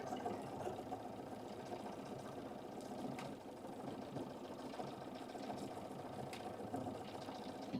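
A domestic sewing machine stitches delicate embroidery on a Christmas tea towel, a steady, continuous mechanical whir running evenly and close at hand with no talking.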